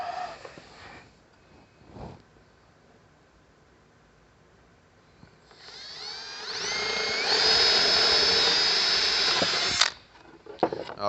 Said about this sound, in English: We'll drill a hole in here.